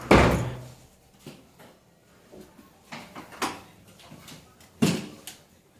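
A bathroom door in a Milwaukee casino hotel room is handled, with a loud opening thud followed by several softer knocks and clicks and a second sharp bang near the end, all in a quiet room.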